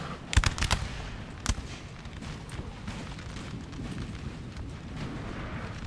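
Guards fire a musket volley in Napoleon Total War, a cluster of sharp cracks near the start and another lone crack a moment later, then a low rumbling battle din carrying on underneath.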